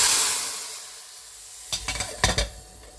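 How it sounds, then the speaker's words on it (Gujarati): Hot tempering for Gujarati kadhi is stirred in with the small tempering pan after a quiet pause, bringing a few sharp sizzling bursts and metal clinks close by. "હવે એને મિક્સ કરી દઉં. વઘારિયાથી જ મિક્સ કરવાનું, મસ્ત અવાજ આવે જો."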